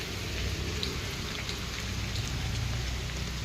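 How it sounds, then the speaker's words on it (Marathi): Heavy monsoon rain in the Konkan countryside falls as a dense, steady hiss of drops on surfaces, close and constant with no voices. "आता पाऊस आहे"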